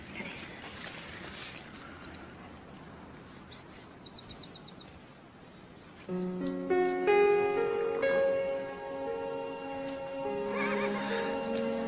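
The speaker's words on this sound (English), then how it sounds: "It's a horse." A horse whinnies loudly and repeatedly in the second half, with a few faint hoof clip-clops and bird chirps earlier in a quiet outdoor setting.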